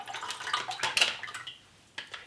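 Liquid from a turkey gravy packet poured into a small saucepan, a short splashing, trickling pour that fades out near the end, close and fairly quiet.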